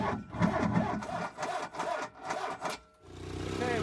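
A Fiat 238 engine with a weak battery cranks repeatedly in a rhythmic, labored churn before finally catching and settling into a low running hum.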